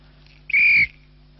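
A vintage original US Army military police whistle gives one short, shrill, steady blast lasting about a third of a second, close and loud over a faint hum.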